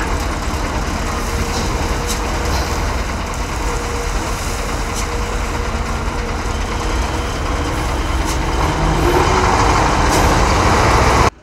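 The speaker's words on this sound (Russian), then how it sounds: "Обработкой дорог и тротуаров ежедневно занимаются десятки вот таких комбинированных дорожных машин." A combined road maintenance truck loads de-icing sand-salt mix, its engine a steady, loud, continuous rumble with a broad grinding wash throughout and a slight rise in intensity near the end.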